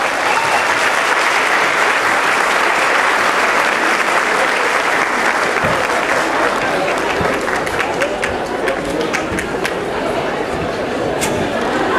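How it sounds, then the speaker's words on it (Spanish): Event audience applauding a speaker invited to the stage, sustained dense clapping from a large crowd for about twelve seconds, loud and continuous with light chatter mixed in and some sharper individual claps near the end. "Un aplauso, por favor."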